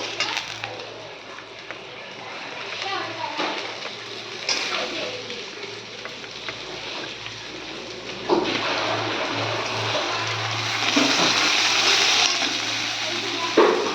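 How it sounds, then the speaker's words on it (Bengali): Potato pieces fry in oil in a pan while a tilapia fish dish is cooked, giving a steady close sizzle and crackle. The hiss swells louder toward the end, with no clear speech over it. "আলুগুলো আমি একটু ভেজে নেব।"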